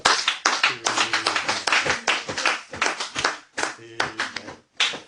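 A church congregation claps loudly in rhythmic bursts, dense hand claps coming in uneven waves with short gaps, with voices calling out over the clapping.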